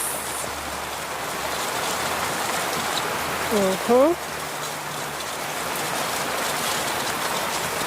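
Steady rain falls outdoors during open-air baking of an eggless chocolate cake, a dense even hiss of drops that runs the whole time, with a brief sung vocal phrase rising over it midway.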